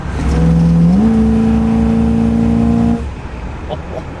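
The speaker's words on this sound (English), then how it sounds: "Can we hear the quadrijet come open?" Engine of a 1960s luxury car with a Quadrajet carburetor, seized for years before the revival, surging as the carburetor opens into a loud rising rev, holding high before dropping back, close and clear.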